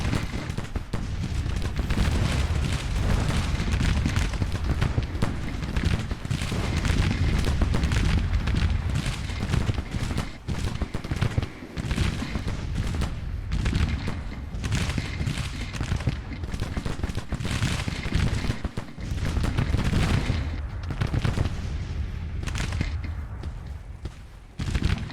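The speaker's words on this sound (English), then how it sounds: "there's just so much artillery fire we're bringing to bear on him" Dense, continuous battlefield din of massed artillery booms and rolling musket volleys in a Civil War strategy game, loud and unbroken with overlapping blasts throughout and no talk.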